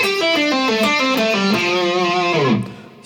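A single electric guitar plays the first phrase of a guitar solo, a quick descending run of sustained lead notes ending in a downward bend, close and alone with no talk.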